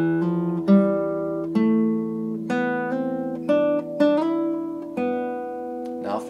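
Solo guitar plays a phrase, a run of plucked notes joined by hammer-ons and a slide, each pick attack ringing out clearly in a steady, moderate rhythm, close and alone.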